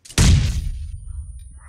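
Grenade explosion in the video game Apex Legends: a single loud, deep boom that hits hard and then rumbles away over about a second, followed by quiet game ambience.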